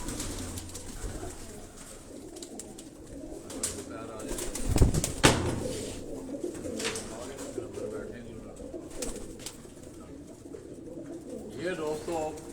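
Rooftop pigeons in Karachi, including migratory birds in a flock, coo faintly under outdoor background noise while someone speaks, with a brief louder rustle near the middle.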